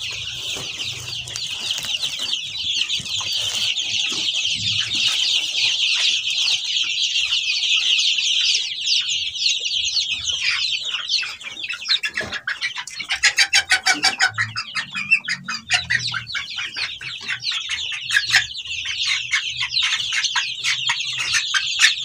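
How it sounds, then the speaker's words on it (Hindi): A frizzle hen, a French chicken breed with long curly feathers, clucks and chatters close by in a steady run of calls, turning into quicker, sharper clucks partway through, with no talk over it. "तो ये फ्रांसी मुर्गी है"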